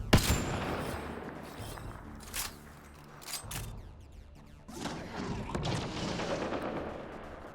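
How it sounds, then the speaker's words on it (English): Enemy gunfire in Mass Effect Andromeda, a sharp opening shot followed by scattered thuds and cracks, then a longer rattling burst of fire over a rumbling battle backdrop at moderate distance. "Oh, now they shoot."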